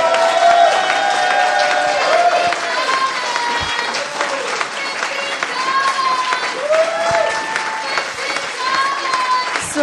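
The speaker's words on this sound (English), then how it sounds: "Can we clap for them just to welcome them?" Audience at a union organising meeting applauding warmly, a continuous crowd clapping with some cheering, while a voice speaks over the applause.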